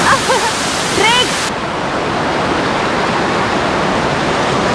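Rushing water from Kothapally waterfall, fresh mountain water flowing, a steady loud broadband roar throughout, with a voice talking over it in the first second or so.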